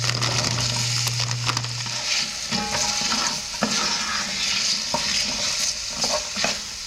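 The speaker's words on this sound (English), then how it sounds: "I want to mix this up and cook it until the carrots are a little soft." Carrots cooking in a pot for braised chuck roast, stirred with a spoon: constant loud sizzling under scraping strokes and light knocks against the pot, close up and with no speech.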